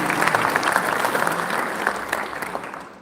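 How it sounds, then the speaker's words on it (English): A crowd claps steadily and loudly through the whole stretch at a memorial service, dense applause with no one speaking over it. "Let's give a hearty clap to God,"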